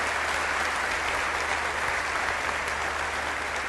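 An audience at a church event claps continuously, a dense, fairly even wash of applause from many hands lasting the whole few seconds without pause.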